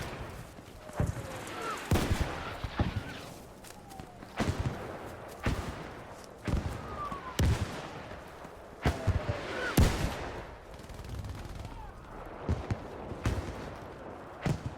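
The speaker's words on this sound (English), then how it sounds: "He called in an airstrike right on us." Video game combat with an airstrike: sharp gunshot cracks and booming blasts arrive in irregular bursts over a rumbling background, some close and loud, others more distant.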